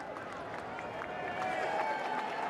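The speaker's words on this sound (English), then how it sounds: "Ryan Moore and Charles Darwin coming back to the applause of the crowd" A racecourse crowd at Ascot claps and applauds as jockey Ryan Moore rides Charles Darwin back after a two-year-old Group 2 sprint. The applause swells in the second half, steady and moderately distant, with a voice speaking over it.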